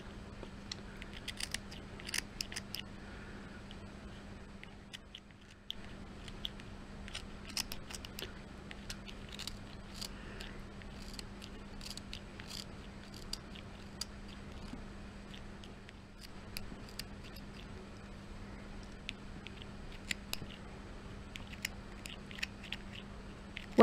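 Quiet, repeated snips of scissors cutting through fabric, slow and evenly spaced, with a low steady hum underneath and no talking.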